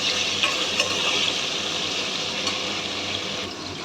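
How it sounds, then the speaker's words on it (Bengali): Potatoes frying in hot oil for chicken biryani give a steady, close, continuous sizzle with a soft crackling hiss, occasional faint clinks of stirring, and no talking. "এই তেলে এবার আমি আলুগুলোকে ভেজে নেব"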